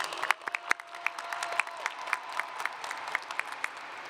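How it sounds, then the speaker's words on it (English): An audience applauds at a high school graduation ceremony, with scattered claps that sound like a moderate crowd in a large hall, steady and fairly close. "Let's give them a round of applause."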